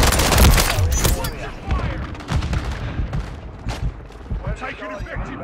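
Bursts of automatic gunfire and heavy shots in Call of Duty combat ring out loud and close, with fast rapid-fire volleys at the start giving way to scattered shots and shouted voices.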